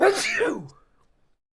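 A single sharp sneeze up close, loud at the start and quickly trailing off into silence.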